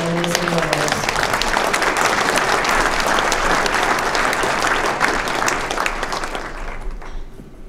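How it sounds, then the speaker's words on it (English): Gala audience applause fills the hall as dense, steady clapping that carries on for several seconds, then thins out and fades at the end. "Let's give another big round of applause to our audience"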